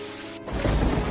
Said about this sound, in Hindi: इतनी तेज बारिश।